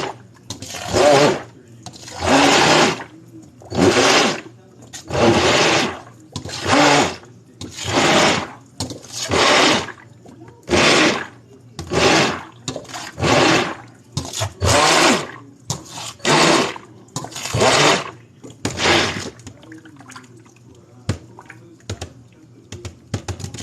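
A handheld emulsifier blender whirs in repeated short bursts of about a second each, mixing soap base for a DIY craft soap, loud and close, with brief pauses between pulses.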